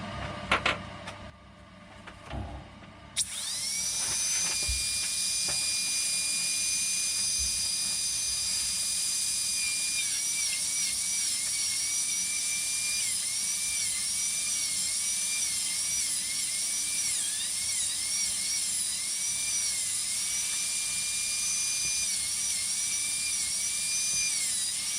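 Dental drill grinding into a Teloceras ammonite fossil, a sustained high-pitched whine with wavering pitch running steadily and close after a few seconds of quieter handling clicks.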